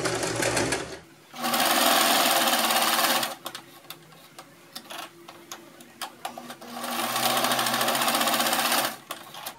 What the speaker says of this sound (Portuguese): Agora a gente vai pegar essa parte do decote e vai costurar.